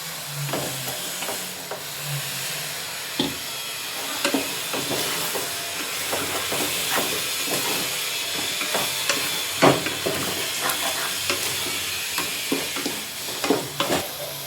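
Marinated chicken sizzles in a biryani pot over mint leaves, a steady frying hiss broken by repeated scraping and clattering stirs of a spoon against the pot, with no talking.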